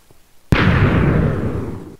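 A TNT cannon blast in a block-building video game: one sudden loud boom that hits hard at once, then rumbles and fades over about a second and a half, heard alone.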